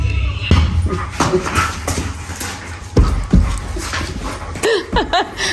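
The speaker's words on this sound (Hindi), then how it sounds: "दोनों कुत्ते लड़ रहे एक दूसरे से।" Two dogs fight each other indoors at a home, with growls, snarls and yelps in a dense, loud scuffle at close range, with brief whimpering and sharp barks near the end.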